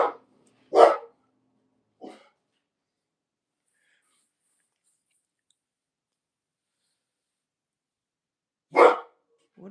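A few separate dog barks ring out while a neighbor passes with dogs, sharp loud yaps near the start, a fainter one after, then a long silent stretch before another loud bark at the end.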